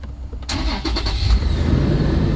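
A car engine cranks briefly with a few stuttering turns, then catches and settles into a steady, close idle rumble.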